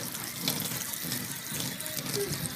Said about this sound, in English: So we're going to go ahead and wash that out. A little spray here.